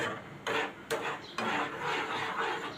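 A spoon stirs grated coconut laddu mixture in a pan over medium-low gas, making steady rubbing and scraping strokes that repeat at close range with no talk.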